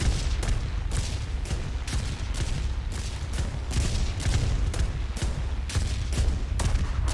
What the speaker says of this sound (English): Still being shot at with flak.